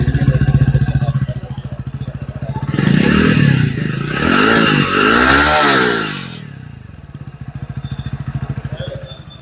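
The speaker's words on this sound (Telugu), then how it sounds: "ఒకసారి మనం ఈ స్ప్లెండర్ ఒక ఎగ్జాస్ట్ నోట్ చూద్దాము." A Hero Splendor Plus XTec 2.0 motorcycle idles up close with a steady, even exhaust thump, is revved twice in rising and falling surges, then settles back to a pulsing idle.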